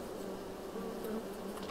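Bees buzz steadily around hives in the farming game Farming Simulator 22, a continuous low, even drone at moderate level with no pauses or voices.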